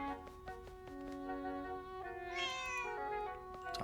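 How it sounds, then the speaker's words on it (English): Mimi, a cat in Zelda: Echoes of Wisdom, gives a single drawn-out, rising-and-falling meow partway through, fairly faint, set over a steady tonal game music bed with soft plucked notes and no speech. "Talk to the kitty. Mimi! There she is."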